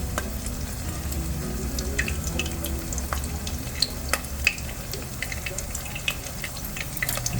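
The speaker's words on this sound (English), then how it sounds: "we're ready to fry" Zucchini fritters sizzling in a pan of hot oil, a steady close crackle with scattered sharp pops, no talking.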